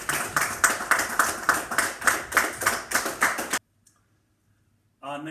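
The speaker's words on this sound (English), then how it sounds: "Give her a round of applause." At an awards celebration, clapping comes in a steady, evenly spaced rhythm of bursts for about three and a half seconds, stops abruptly into silence, and then a voice begins speaking.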